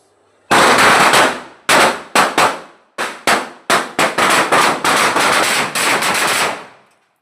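Diwali firecrackers burst in a loud close series of sharp cracks, first a few separate bangs, then a rapid rattling string of blasts that runs for several seconds, with no voices.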